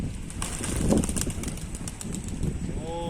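A high-flying pigeon comes in to land with a soft flurry of flapping wings, heard faintly outdoors over light background noise.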